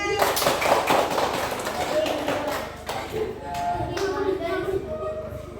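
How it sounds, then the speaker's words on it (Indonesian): A classroom group claps after a student presentation, a short burst of hand claps near the start that thins out while voices continue over it. "Kita tepuk tangan."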